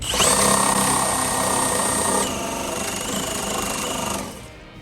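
Power tool grinding rust out of the rocker panel on a square body truck, a loud continuous high-pitched whine with a step down in pitch midway, then tapering near the end.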